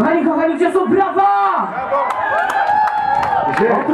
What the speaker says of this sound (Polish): Kochani, kochani, gdzie są brawa!